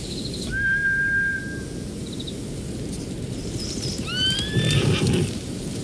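Horses whinnying in the samurai video game Ghost of Tsushima, a long high neigh followed by another rising whinny a few seconds later over a rough, noisy outdoor game ambience.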